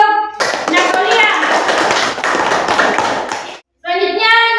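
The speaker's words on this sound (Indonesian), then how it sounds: "Oke, tepuk tangan untuk Napolia." A classroom of students claps for a classmate, loud and close, a dense burst of many hands that runs for a few seconds, stops abruptly, and gives way to a voice speaking.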